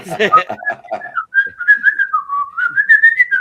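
A person whistles a wavering tune after a few quick spoken words, the whistle rising and falling in pitch, close and fairly loud with short breathy gaps.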